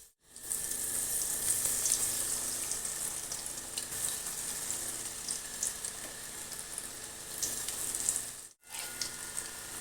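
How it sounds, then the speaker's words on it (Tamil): Raw banana slices fry in hot oil in a home kitchen, producing a steady bright sizzle that carries on for nearly ten seconds, briefly dropping out once before resuming, with no talking. "அடுத்த ஈடு பொரிக்கலாம்."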